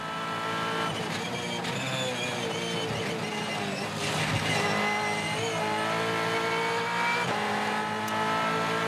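Supercars race cars battle wheel to wheel at the Gold Coast 500 street circuit, engines screaming and shifting through gears with brief tire squeal as one car overtakes, a sustained loud roar with faint commentary beneath.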